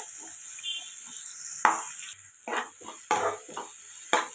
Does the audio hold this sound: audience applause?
no